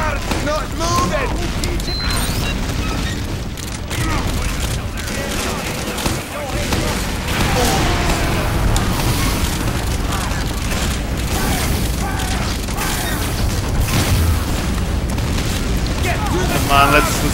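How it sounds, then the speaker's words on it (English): Continuous dense explosions from carpet bombing in Team Fortress 2, a rapid stream of booms and blasts layered over game noise, loud and sustained throughout with no pauses. "I'm just carpet bombing the place at this point."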